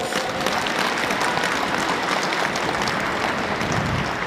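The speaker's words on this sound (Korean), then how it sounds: "박수 한번 칩시다" A lecture audience claps steadily and loudly throughout after a call to applaud during a national security talk, an even, unbroken burst of applause with no talk over it.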